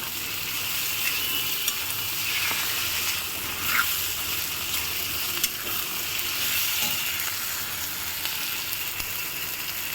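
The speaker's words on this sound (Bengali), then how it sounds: "এবার আমি ভালো করে মশলাটাকে সুন্দর করে কষাই নেব।" Spice paste with tomato and chopped ginger frying in a pan for a yogurt katla fish curry, a loud, steady sizzle with intermittent stirring scrapes and clicks throughout.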